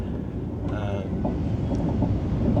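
A steady low rumble and rushing noise of a train running at speed on the Vientiane to Bangkok route with a 160 km/h limit, continuous and close for a few seconds, with faint brief tones over it.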